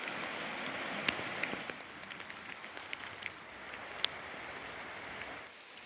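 Rain falling while walking outdoors in Japan, a faint steady patter with occasional sharper drops landing close by, no talking.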